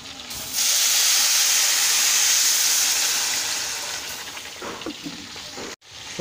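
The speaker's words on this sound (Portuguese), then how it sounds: "Isso aqui é a linguiça que estou fritando." A steady, loud sizzling hiss of sausage frying in a pan, close up, fading slightly over time with faint background sounds.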